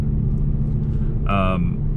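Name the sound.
sports sedan engine rumble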